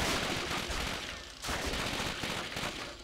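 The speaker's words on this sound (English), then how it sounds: "How many times do I gotta shoot you guys?" Gunfire from the video game Call of Duty: Finest Hours in a tunnel battle on the Western Front, a dense, loud barrage of shots that runs continuously with a brief dip partway through.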